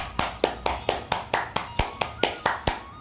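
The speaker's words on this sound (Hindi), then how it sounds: "इस गति से मैं तालियां बजाती हूँ और इतनी स्पीड से मैं बजाती हूँ।" Hands clapping quickly as exercise, a brisk even series of about thirteen crisp claps, close and alone, evenly spaced a little over a fifth of a second apart.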